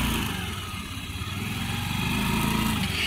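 A scooter ridden by a nervous learner, its small engine running steadily with a low, even hum and faint pulsing, fairly close and with no talk.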